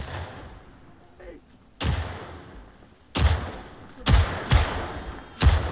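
Several sharp gunshots aimed at the player in the zombie survival game Project Zomboid, sounding as loud, separate cracks spaced irregularly, with a closing burst of three shots in quick succession and a quieter rumble between them.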